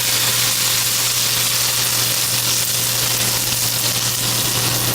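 Sweet potato gnocchi sizzle in a pan with a small amount of European butter, a steady, loud frying hiss that continues unbroken with no talking.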